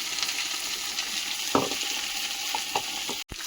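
Tilapia fish frying in oil in a pan with onion and green chili, a steady loud sizzle throughout with a few scrapes of stirring and a brief dropout near the end.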